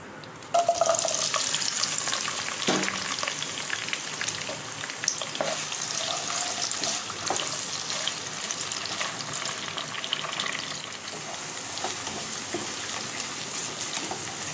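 Onion, garlic cloves and a bay leaf fry in hot oil, giving a steady, close, fairly loud crackling sizzle that runs unbroken throughout, with occasional stirring clicks and no talking.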